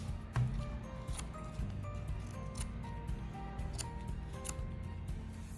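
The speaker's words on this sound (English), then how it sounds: "take your scissors and just cut the fabric right off the back" Scissors snip fabric off the back of a Picto craft kit in a string of quiet close cuts, each a short crisp click over a soft background hum.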